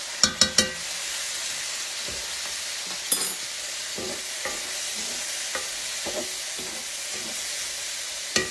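Garlic sizzles in a pan with zucchini, mushroom and onion while a utensil scrapes and stirs, sharp clacks over a steady frying hiss close by.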